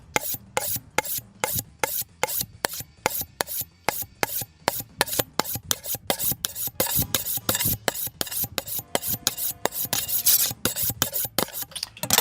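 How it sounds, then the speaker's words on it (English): A kitchen knife being honed with rapid, evenly spaced rasping strokes, dozens of sharp scrapes in a steady rhythm throughout, close and clear with no talking. "Let's go ahead and hone our knife."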